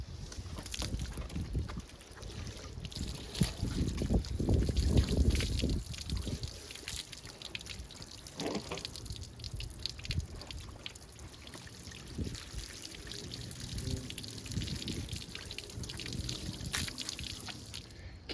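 Water streams and splashes over a car while rinsing it, for a long stretch, swelling louder in the middle and then trickling and spattering more softly.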